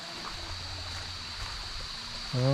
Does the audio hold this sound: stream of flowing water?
yes